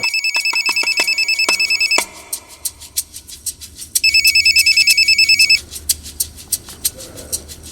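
A telephone rings in repeated electronic bursts inside a crime drama scene, with one run of rings followed by a pause and then a second run, loud and close with no talking.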